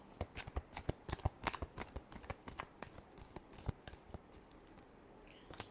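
Tarot cards being shuffled in a quick run of crisp, rapid riffles and soft slaps, close and fairly quiet, with no talking over them.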